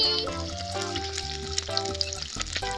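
Egg-dipped cauliflower pakoras frying in hot oil, a close, bubbling sizzle with a few crackles as pieces drop in, steady and fairly loud.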